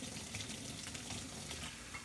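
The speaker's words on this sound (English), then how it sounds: "I'm just going to quickly rinse this out here" Water runs steadily from a kitchen tap as a pot is rinsed out in the sink, a continuous broadband splashing rush at close range with no talking.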